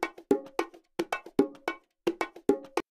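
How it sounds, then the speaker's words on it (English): A looped bongo drum pattern of repeated sharp hand strikes in a steady groove, soloed and heard alone, clear and close. "This is a bongo track here."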